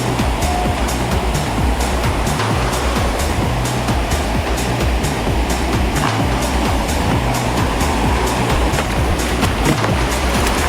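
Rushing water at Ghogata waterfall during the first rains, a loud, steady broadband roar filling the whole stretch without pause.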